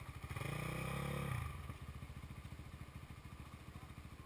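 A motorcycle engine nearby rises in a brief rev for about a second, then drops back to a steady, rapid chugging idle that continues to the end.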